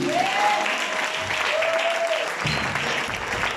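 A church congregation applauds, sustained clapping at steady loudness throughout, with a voice calling out over it.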